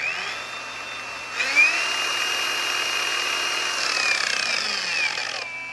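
Grizzly PRO rotary sander/polisher running steadily alone at close range, its whine holding even and shifting pitch slightly as it is toggled through speeds before spinning down.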